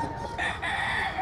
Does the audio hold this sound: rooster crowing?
yes